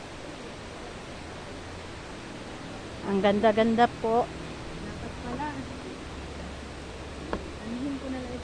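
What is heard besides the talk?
flowing water at Magbais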